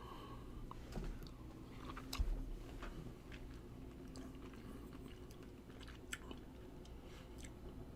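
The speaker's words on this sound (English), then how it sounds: "I'm going to try a pineapple after having this miracle berry." Someone chews pineapple after eating a miracle berry, making soft, quiet, irregular wet crunches and squishes close to the mic, with one slightly louder bite partway through and no speech.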